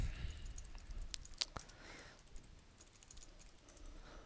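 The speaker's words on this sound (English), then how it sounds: "I'm sure you can see what I'm typing." Someone types on a computer keyboard, giving a faint, quiet run of irregular key clicks with a few sharper taps, while no one speaks.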